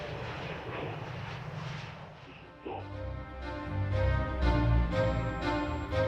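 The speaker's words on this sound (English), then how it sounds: "by minimizing the amount of noise aircraft engines make" Aircraft engine noise builds into a steady, loud roar with tonal whine, swelling after a brief dip midway and holding strong to the end.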